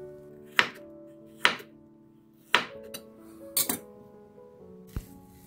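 A knife cuts carrots into round discs on a cutting board: four or five crisp, separate chops spaced about a second apart, close and clear with quiet gaps between them.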